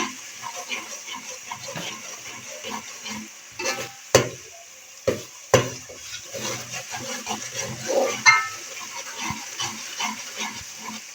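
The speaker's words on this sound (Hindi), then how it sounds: "अब ये हमारे पास है लहसुन अदरक का पेस्ट, हम ये शामिल करेंगे। इनको भी हम फ्राई कर लेंगे।" Garlic-ginger paste fries in a pan for black chickpeas in green masala, sizzling steadily as it is stirred, with scraping spoon strokes and a few sharp knocks throughout.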